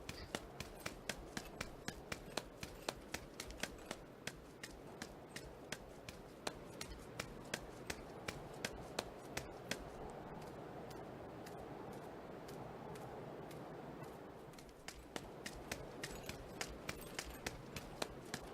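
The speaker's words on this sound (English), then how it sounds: "So you can hear they added a slight keys jangling." Slight metallic keys jangling in the video game Rend, a quick, steady run of sharp ticks and jingles across the whole stretch with a short lull near the end, set against a dense ambient bed.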